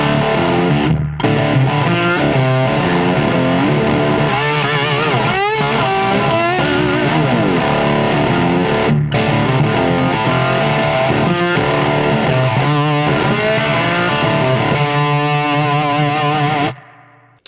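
Heavily distorted electric guitar through a miked cabinet plays continuously with chords and riffs, loud and full, stopping abruptly near the end.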